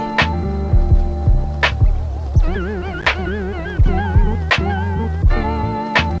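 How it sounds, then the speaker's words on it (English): A music loop runs through a lofi cassette-tape VST plugin with wow engaged, the sustained chords slowly warbling up and down in pitch over a steady beat, like a warped, sun-damaged tape. "Sound like a tape that's been in the sun too long."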